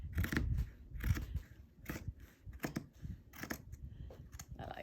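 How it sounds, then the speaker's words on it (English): Sewing scissors snipping through denim fabric at close range, a series of crisp cuts at an uneven pace with no talking. "I'm going to cut that. I think I'll use my scissors for that."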